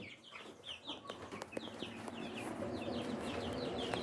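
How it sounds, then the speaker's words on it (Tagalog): Rhode Island Red chicks peep continuously in a brooding cage, with many high, rapid chirps overlapping close by and some soft clucking underneath. "mga sisiw natin"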